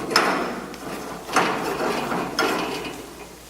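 Metal drain pipe screwed into a commercial fryer: three separate clanking, scraping turns spaced about a second apart, close and fairly loud in a quiet room.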